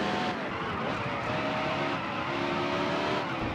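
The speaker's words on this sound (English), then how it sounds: "I just blew my engine hitting the wall." Race car in the Dirt to Daytona video game blowing its engine after hitting the wall, a dense continuous roar of engine and tire noise with no pauses.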